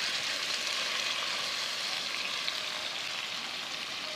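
Jamaican brown stew chicken fries in a pot with a steady, bright, hissing sizzle that stays even and unbroken throughout.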